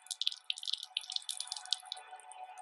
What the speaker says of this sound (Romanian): Să consumăm aici niște apă.